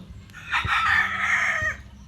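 A sick chicken in a flock struck by disease gives a single drawn-out clucking call of about a second, fairly close, with faint background noise and no talk.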